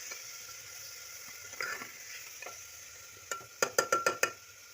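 Onions, tomatoes and green chillies sizzling in a pan while being stirred, soft frying hiss under a quick series of sharp scraping spoon strokes near the end, no voices.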